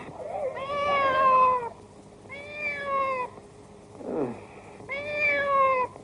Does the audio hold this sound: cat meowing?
yes